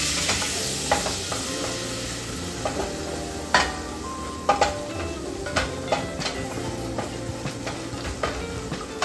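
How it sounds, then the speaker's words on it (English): Flour being stirred into melted vegan butter in a pan, a light sizzle running throughout with scattered clicks and scrapes of the utensil against the pan, close and steady with no talking. "You're gonna mix that until you cook the flour down"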